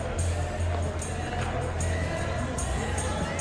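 Stadium crowd noise in the PES 2021 football video game, a Manchester City versus Aston Villa Premier League night match: steady, loud crowd hubbub with a low droning chant and occasional swelling cheers.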